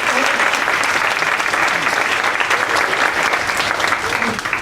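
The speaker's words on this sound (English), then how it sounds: "I think that deserves a round of applause." Loud, sustained applause from a crowd at an event about women in prison, a dense continuous wash of clapping that holds steady for several seconds.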